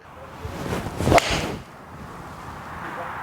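A single sharp swoosh and crack of a Ping iCrossover club striking a golf ball, followed by quiet outdoor ambience.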